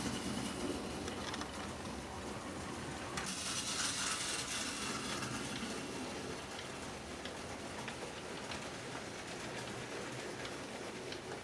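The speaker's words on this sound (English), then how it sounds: "It's a mainline Jubilee you can hear in the background." A mainline Jubilee steam locomotive passes in the background, heard as a constant, faint rumble and rushing noise with a brief swell partway through.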